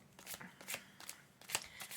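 An Oracle card deck being shuffled, four quiet papery riffling bursts in quick succession, close and soft, with no talk.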